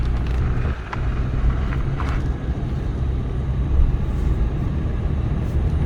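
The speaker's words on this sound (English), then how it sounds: "Figure I'd do a quick drive for y'all." A car drives along with steady broadband road and engine rumble, fog lights on, the noise holding an even, close level throughout with no talk.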